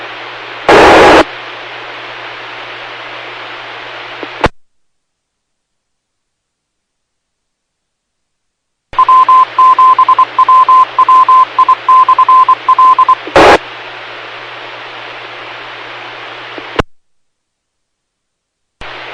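Over an EchoLink amateur radio link, a run of short, clipped dialing tones pulses through a hissing, static-filled transmission, with abrupt keyed bursts and silent gaps around it.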